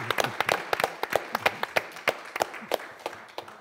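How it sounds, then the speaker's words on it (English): Scattered applause from a conference audience at an Aspen Institute event on artificial intelligence, individual claps distinct and close, forming a moderate, uneven patter that thins toward the end. "very big applause."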